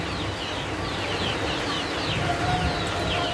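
Sentul chickens on a farm give steady overlapping clucks and calls, several birds at once over a constant outdoor background.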